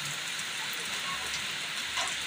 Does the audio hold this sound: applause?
no